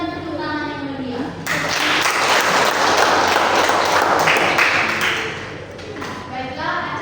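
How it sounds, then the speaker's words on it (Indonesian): A school class audience applauds after a student group's entertainment performance, the clapping building into a loud, dense wash for several seconds before fading, with a voice speaking before and after it. "Sekali lagi berikan tepuk tangan yang meriah."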